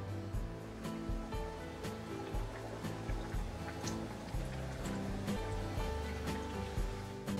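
Moth kachori deep frying in hot oil makes a continuous bubbling hiss with soft, irregular pops, close and moderately quiet.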